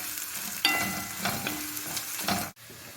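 Onions sizzling in oil with a frying crackle and occasional stirring scrapes, close and steady, ending in a brief cutoff.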